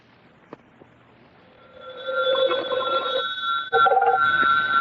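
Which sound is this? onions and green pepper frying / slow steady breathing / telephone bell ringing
telephone bell ringing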